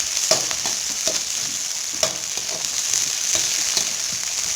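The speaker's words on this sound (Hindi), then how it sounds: "अब इसमें हम डाल देंगे हरे मटर। आप फ्रोजन मटर भी डाल सकते हैं। हरे मटर डाल के अच्छे से भून लेंगे।" Green peas roasting with lightly browned onions in a pan for samosa filling, giving a steady close sizzle broken by light stirring scrapes and taps, with no speech.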